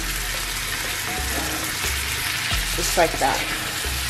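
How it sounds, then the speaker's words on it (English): Ackee and breadfruit filling is folded in a pan with a steady background sizzle and soft stirring scrapes, then a brief clink near the end, as a voice speaks quietly over it. "Just fold everything in."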